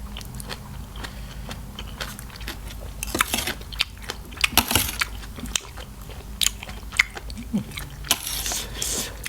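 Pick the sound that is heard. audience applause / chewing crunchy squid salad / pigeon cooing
chewing crunchy squid salad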